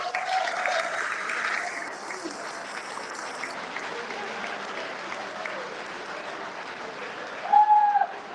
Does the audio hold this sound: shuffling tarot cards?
no